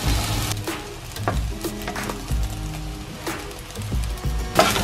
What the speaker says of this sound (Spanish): Empezamos a revolver